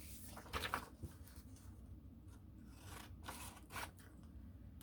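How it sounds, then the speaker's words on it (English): Scissors snip through a paper mailer being cut apart for ephemera crafting, giving a series of close, crisp cuts and rasping paper sounds in quiet surroundings. "I think I'm going to cut this."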